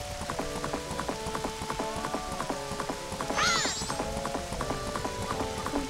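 Horse hooves clip-clopping in the rain in the video game The Legend of Zelda: Majora's Mask, a steady rhythmic trot over game music with a rain hiss behind and a short whinny-like effect midway.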